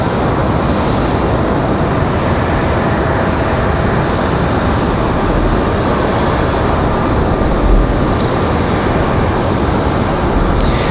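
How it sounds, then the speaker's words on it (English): A Boeing 757 jet climbs away from the runway at night, its engine roar a loud, steady broadband rumble that holds without a break, far and enveloping rather than close. "Second 757 departure of the evening."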